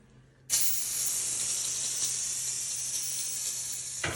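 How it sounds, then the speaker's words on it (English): Oven cleaner sprays from an aerosol can in one steady, loud hiss lasting several seconds, close up, then cuts off abruptly. "pop the lid, and then I just spray this thing."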